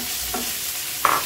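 Paneer is stirred in coconut oil with curry leaves in a pan, giving a soft, steady hiss of frying. A couple of brief scraping strokes from the spoon sound close by.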